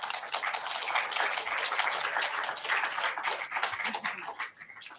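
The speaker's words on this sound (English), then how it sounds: "let's have a round of applause." An audience at a research fellowships symposium applauds, a dense, steady patter of many hands clapping for about five seconds before thinning out at the end.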